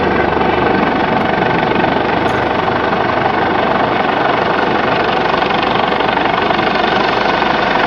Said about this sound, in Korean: 헬기를 착륙을 못하니까 끈을 내리나 봐요